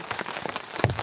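Rain pattering steadily on a tarp at a cold mountain campsite, dense close drops with one sharper tap near the end, no talking.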